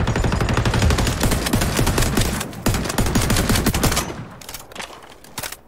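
Rapid bursts of automatic gunfire and weapon shots in a video game zone-capture match, dense and continuous for most of the stretch, then thinning into a few scattered sharp shots near the end.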